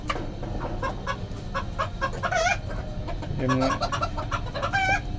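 White chickens cluck and squawk nearby after being let out of an enclosure, a busy run of overlapping calls with faint background voices.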